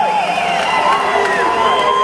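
Crowd cheers at the UFC Rio weigh-in in the HSBC Arena, a loud, continuous roar of many voices with whistles and shouts, dense and sustained throughout.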